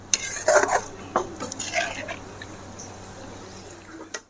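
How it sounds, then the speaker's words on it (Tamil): A lid is set down over a pot of mutton lung and liver gravy, with a couple of close metallic clinks and scrapes near the start and a faint clatter near the end, over quiet kitchen background. "நம்ம இதை அப்படியே மூடி போட்டு நல்லா வேக விட்டுடலாம்"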